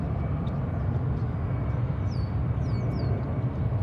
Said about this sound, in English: we have taking off here. American Flight 868 to Austin. And Airbus A319.